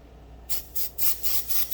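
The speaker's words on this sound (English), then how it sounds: "use some spray. Non-stick cooking spray" Several short hissing bursts of non-stick cooking spray in quick succession, close and fairly loud.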